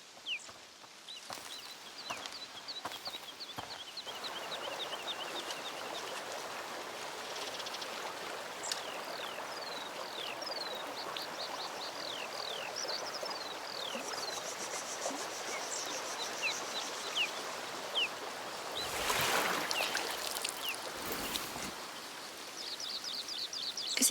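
Steady rushing stream water flows through a scene in the video game A Plague Tale Requiem, a continuous broad wash with bird chirps and calls scattered over it and a few brief clunks near the end.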